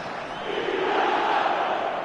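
A football stadium crowd calling out in a sustained, steady roar of many voices, fairly loud and even across the moment.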